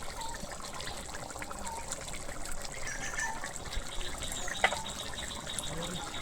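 Water simmering and bubbling in a pot for Bengali potato curry, a soft steady burble and hiss at low level, continuous with a few faint clinks.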